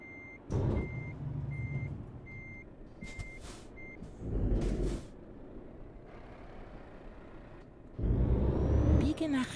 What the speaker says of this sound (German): Dann wollen wir eben vom Hof runterfahren.